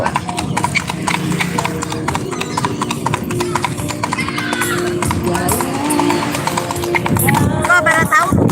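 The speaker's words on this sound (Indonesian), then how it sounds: "Tuh, ini kudanya nih, ini suara kudanya nih tuh." A horse named Jeko, about five years old, trots with a bendi cart near Jam Gadang, its hooves clopping loud and regular against background chatter and street bustle, with people talking nearby.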